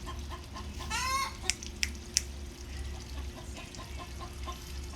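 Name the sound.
chickens clucking loudly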